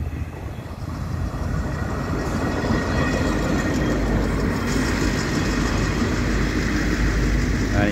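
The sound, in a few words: Doodlebug rail motor train passing through station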